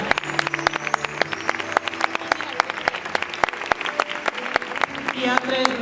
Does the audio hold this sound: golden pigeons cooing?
no